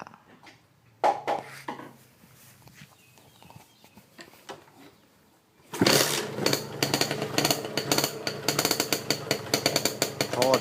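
A stock Honda motorcycle exhaust with a split pipe tip fitted with an inserted tube, starting after a few soft clicks and then a loud, close, rapid rumbling idle with uneven popping pulses.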